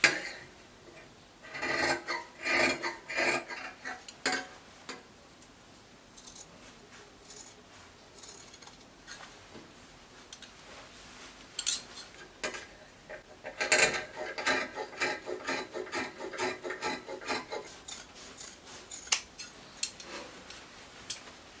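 Scissors cut dress fabric for a bishop-neck circle short dress, the crisp snips coming close up in irregular bursts separated by quieter pauses, with no talking.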